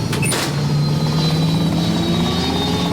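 Large single-rotor auto-gyro aircraft, a huge Rotodyne FB-10 with one immense rotor over a small-jet-like fuselage, droning steadily and loudly close by with a continuous mechanical whir and no voices.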